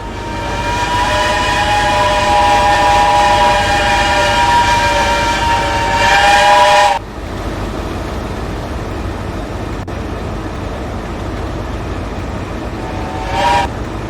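A diesel locomotive at an open day in a train simulator game sounds a loud, sustained horn for several seconds before it cuts off abruptly, leaving a low engine rumble, and then gives one more short horn blast near the end.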